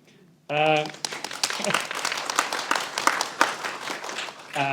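Audience at a post-show talk applauding a panellist after a theatre performance, a dense steady patter of many hands filling the room right after a brief spoken introduction.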